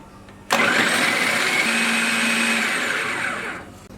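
An electric chopper whirs up abruptly and runs at a loud, steady motor whine for about three seconds while chopping garlic cloves and other ingredients, then winds down and stops.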